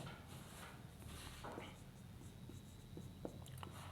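Pen scratching on paper in a school notebook during a Hindi lesson, a soft continuous scribbling texture low in level under a steady background hum, with brief strokes standing out.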